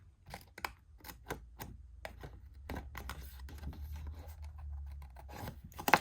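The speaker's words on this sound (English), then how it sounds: "we're going to cut this off." Scissors snip through paper while shaping a handmade pocket book, a string of short, crisp cuts in quick bursts, close and fairly quiet over a low steady hum.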